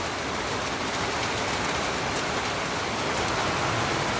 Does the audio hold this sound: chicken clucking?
no